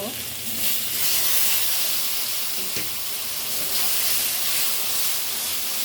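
Water splashed into frying chilli-powder masala for Bengali chicken kosha sets off a steady, loud sizzle and steamy hiss that holds evenly for several seconds, with a faint clink partway through.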